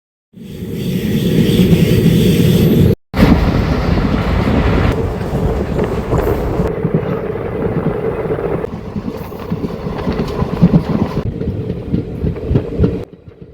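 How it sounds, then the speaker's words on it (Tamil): A train rumbles loudly and steadily across a bridge over the Amaravathi River at Karur, its roar shifting in tone as it passes over, with a brief sudden dropout near the start. "நம்ம ட்ரெயின் வந்து கரூர் அமராவதி ஆத்த தாண்டி போயின்ருக்கு"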